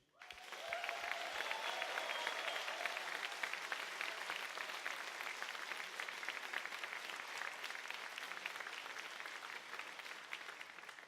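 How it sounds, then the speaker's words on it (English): The audience at the HackZurich 2017 closing ceremony applauds the organizing team with steady, dense clapping that rises quickly and holds at a fairly quiet level to the end. "So please also give a big hand of applause for Jonathan, Rasmus, Seth, and the rest of the HackZurich team."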